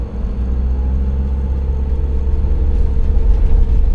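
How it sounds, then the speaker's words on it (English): Busy road traffic near Leerdam in the Netherlands, a continuous loud engine rumble and whir of cars passing and idling close by, steady throughout with no speech. "I've seen so much traffic."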